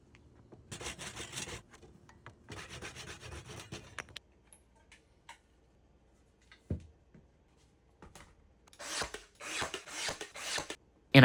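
Bursts of rasping and scraping as corners are notched out of a wooden window stool, several separate rough strokes of a few seconds each with quiet gaps between them, close up and without speech.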